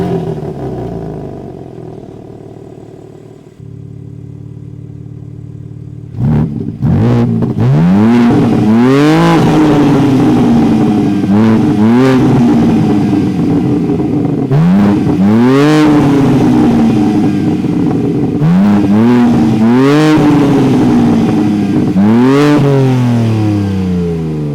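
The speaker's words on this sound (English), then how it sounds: "you're going to miss hearing the S58 rev. So let's hear that." A 2023 BMW M3 xDrive Competition with the S58 engine idles, then is revved repeatedly, each sharp rise and fall of engine pitch loud and close, about six blips spread evenly over a steady idle.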